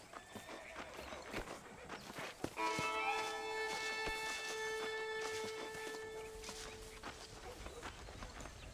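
Horse hooves clip-clop steadily during riding in the video game Red Dead Redemption, set against a layered musical score of sustained tones, moderately loud and continuous throughout.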